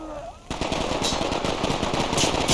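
Rapid automatic gunfire in the tactical shooter game Ready or Not, loud, dense bursts of shots starting abruptly after a quiet moment and continuing steadily to the end.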